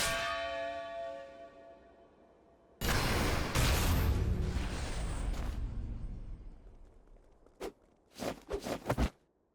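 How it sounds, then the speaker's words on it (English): A bell in the video game Octopath Traveler II strikes once with a loud, ringing clang that slowly fades. Several short, sharp metallic hits follow near the end. "The bell heralds your defeat."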